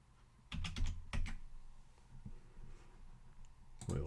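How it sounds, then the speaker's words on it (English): Technician's password typed on a computer keyboard: quiet, close key clicks in short bursts of several presses, with pauses between them in a quiet room. "Type in the technician's password."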